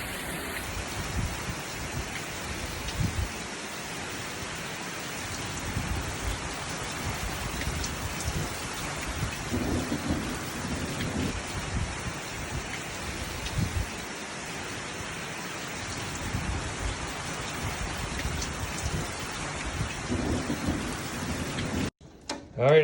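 Heavy rain pours steadily in a thunderstorm that brings hail, a dense continuous hiss of drops on surfaces with low rumbles of thunder swelling underneath, then an abrupt handling bump at the very end.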